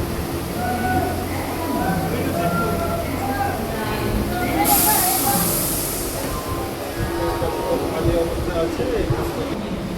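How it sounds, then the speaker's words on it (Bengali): A Haldia local train rolling along, its steady rumbling, rattling carriage noise continuous and fairly loud throughout, with a brief hissing burst midway and faint voices underneath. "এই যে ট্রেনে উঠে পড়লাম"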